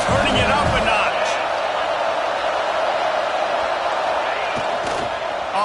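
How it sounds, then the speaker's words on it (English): Stadium crowd roaring steadily at a college football game between Miami and Florida State, a dense loud wall of cheering that holds throughout, with a few thumps early on and commentary talk over it. "this crowd is turning it up a notch"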